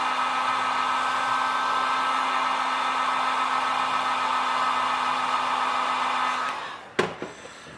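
A heat blower runs steadily on the back of a Samsung Galaxy Grand Neo phone, warming it to loosen the LCD's adhesive. The whine holds loud and constant, then cuts off, followed by a few sharp clicks and handling knocks.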